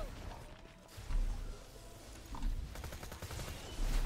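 Corrosive gun fired in Borderlands 2, heard as a string of quick, rapid gunshots over game noise, with louder bursts near the start and end.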